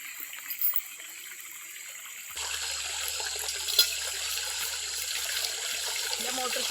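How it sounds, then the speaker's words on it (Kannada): Motor-pumped water gushes onto a farm field, starting abruptly partway through and then running as a steady, fairly loud rush and splash with a low motor hum beneath. "ಮೋಟ್ರ್ ಚಾಲು ಆಗಿದೆ ನೋಡ್ರಿ"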